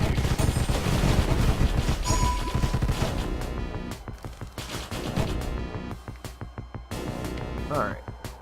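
Plague gun fire in the Deathstate video game: a loud, dense barrage of rapid shots and crashing impacts, tapering into sparser bursts, with a voice speaking over parts of it.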